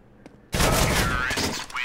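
A scout sniper rifle in Counter-Strike: GO cracks once loudly and rings out over a brief noisy tail, with faint game sounds before it.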